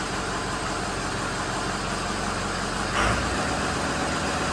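A 2006 Ford F250 with the 6.0 engine idles in a steady, dense rumble, with a brief louder surge about three seconds in and no talking.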